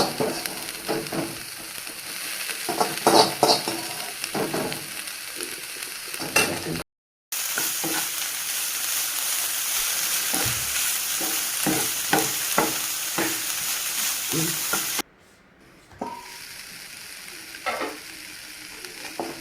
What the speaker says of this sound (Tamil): அது கூட பாயில் பண்ணி வச்சுருக்கிற நம்ம அந்த வாழைப்பூவை வந்து இதில் ஆட் பண்ணி நல்லா ஃப்ரை பண்ணி எடுத்துக்கலாம்